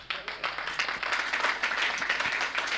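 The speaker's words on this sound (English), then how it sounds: "Can we have a much louder round of applause" An audience at a town hall meeting in Anambra claps in a dense, continuous burst of applause, loud and close, with no talk over it.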